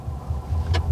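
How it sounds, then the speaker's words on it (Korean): A low, steady engine rumble from a 2024 Mercedes-Benz CLE 450 4MATIC coupe idling in comfort mode, exhaust heard from the rear, with a brief hiss or whoosh near the end. "뒤쪽에서 들리는 그 배기음이 좀 잘 들리는 편이에요."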